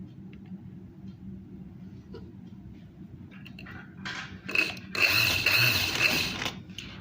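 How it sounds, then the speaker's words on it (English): A sewing machine stitches seams after a stretch of quiet mechanical hum. From about the midpoint, a louder rattling, rapid mechanical whir runs in close bursts, briefly stopping and then restarting. "now let me start the stitching part"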